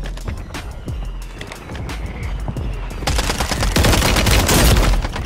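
Gunshots in the video game Warzone, rapid bursts of automatic fire at first, building into a louder, denser sustained volley in the second half.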